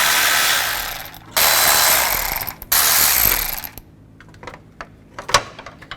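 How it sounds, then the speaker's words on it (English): A ratchet fitted with a 10mm socket works bolts loose on a 2000-2006 Chevy Tahoe. It makes loud, close bursts of rapid clicking in two or three runs, then some softer scattered clicks and a few metallic taps. "Now I'm going to use a 10mm socket, take these 3 bolts out"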